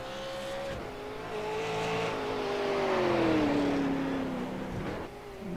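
Engine of a number 51 Ford super late model stock car on a sim racing game track at Summit Point Raceway, a steady, loud rising and falling drone as it accelerates and shifts, with faint tire noise and no talk.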